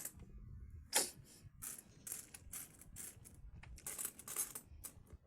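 Old Philippine centavo coins clink and rattle as they are handled and dropped, with a sharp metallic strike near the start and a run of smaller jingles and clicks after it, close by and with no one speaking.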